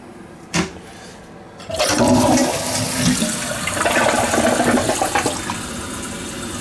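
A Kohler toilet flushes close by, with a short knock before the loud rush of water that holds steady and then settles into a refilling flow.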